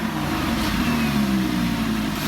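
A car engine revs with its exhaust in Corsa mode and the actuators open, a loud, close, throaty drone held steadily through the short stretch.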